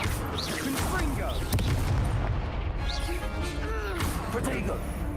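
The Confringo fire spell from Hogwarts Legacy bursts with deep, booming explosive thuds under dense game noise, while a voice talks over the action.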